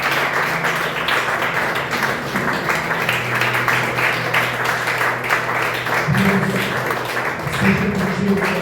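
Congregation applause during a church discipleship service, a dense sustained patter of many hands clapping throughout, with music or voices humming underneath.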